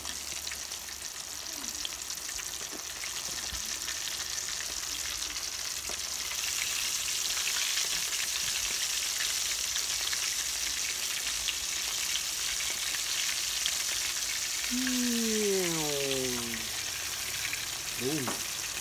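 Catfish fry in coconut milk in an outdoor backyard setting, giving a steady close crackling sizzle throughout, with a few short squeaky tones near the end.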